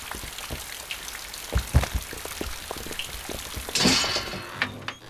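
Steady rain patters and drips on surfaces with scattered heavier drops, a close wash of water swelling briefly toward the end, with no voices over it.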